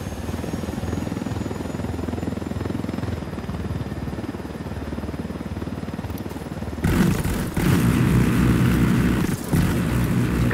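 Helicopter in the shooter game Ghost Recon Wildlands, a steady loud rotor drone with constant low thumping that swells sharply louder near the end, as though passing close, without speech.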